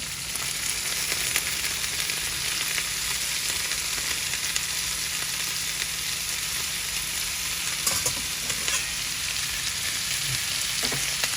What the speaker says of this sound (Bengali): একটু ভাজা ভাজা হয়ে হয়েছে না এই শাকের জন্য প্রায় ভাজা হয়ে গেছে